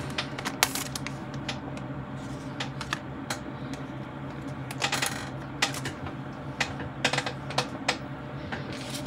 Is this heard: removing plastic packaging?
yes